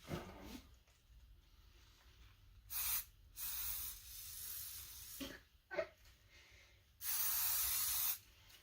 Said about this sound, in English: Spray paint again, right here.